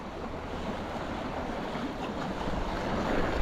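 Wind gusts across open water on a rainy bass-fishing outing, a steady broadband rushing roar that swells gradually louder toward the end, with no voices.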